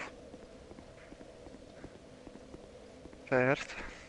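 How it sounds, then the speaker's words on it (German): Horse hooves clip-clopping in the video game Dark Souls 2, a faint, steady run of soft clops, with a short tonal burst breaking in near the end. "Pferd."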